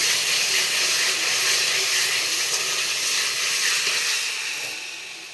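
Spice paste frying with soybeans in a pan for a Bengali kosha dish, giving a steady close sizzle and hiss throughout that eases off near the end.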